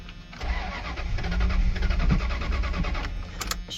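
A Dodge Power Ram 150 that has sat for five years cranks over with its starter, a steady rhythmic churning that runs for several seconds without catching, then stops with a few clicks; no talk.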